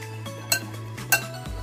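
Dry spices being stirred into a carrot, radish and green chilli pickle, heard as a few sharp clinks and scrapes of a spoon against a bowl over a low steady hum, with no voices.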